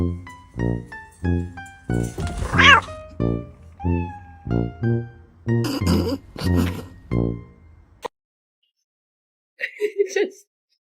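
A cat meows repeatedly in a series of clear, loud, closely spaced cries with a few grunting sounds between them, ending with a pause and then a short final burst.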